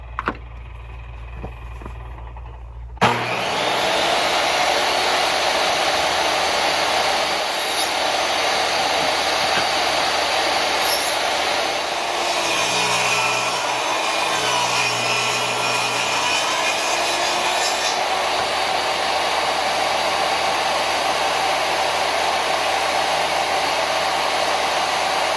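A power saw rips a 2x4 of lumber into 3/4-inch strips for a beehive build, running as a loud, steady whine for over twenty seconds after a brief quieter start, with slight pitch dips as the blade works through the wood.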